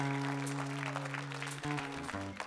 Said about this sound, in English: how about a big round of applause for Steve Curry on the guitar and Buddy Klei